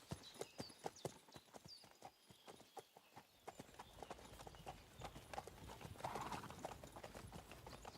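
Steady clip-clop of horse hooves trotting at a brisk rhythm in Kingdom Come: Deliverance II, with a soft rustling ambience building toward the end; no talking.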